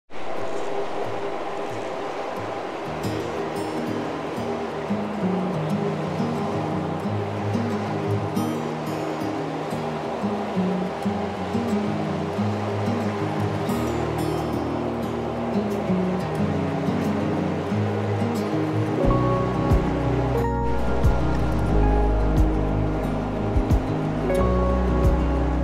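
Steady rushing flow of a small river's current, broad and continuous at close range, with a deeper surge building toward the end and no talk.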